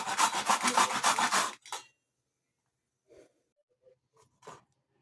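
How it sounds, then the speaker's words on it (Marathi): Fresh wet coconut rubbed against a fine kitchen grater, a fast run of dense scraping strokes for about a second and a half, then a few faint, scattered light scrapes and knocks with quiet gaps between. "ह्या बारीक किसणीने याचा बारीक किस करून घेणार आहोत अगदी ओल्या नारळाचा"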